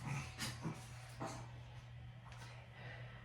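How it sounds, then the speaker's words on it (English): A dog with a collapsed trachea breathes heavily in the background, giving a steady, raspy, honking wheeze with a few sharper snorting bursts. It is moderately quiet and nearby indoors. "Excuse my dog in the background"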